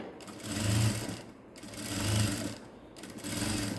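Sewing machine stitching a fancy saree blouse with long stitches, running in three steady whirring bursts separated by short pauses, close and fairly loud with no talking.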